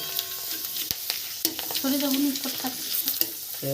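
Raw potato slices dropped into hot oil for homemade chips, sizzling and bubbling close up with stirring clinks and scrapes of a utensil.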